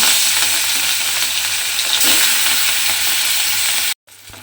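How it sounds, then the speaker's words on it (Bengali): Pieces of rohu fish fry in hot oil, a loud, dense, even sizzle close by that cuts off abruptly near the end, with no speech. "এবারে আমি মাছগুলোকে তেলের মধ্যে দিয়ে একটু লাল করে প্রথমে ভেজে নেব।"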